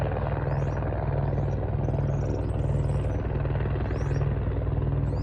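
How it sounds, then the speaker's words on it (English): A helicopter drones steadily with a low, rapid rotor thump, constant and moderately loud, with a few faint chirps above it. "Sorry, I think there's a helicopter."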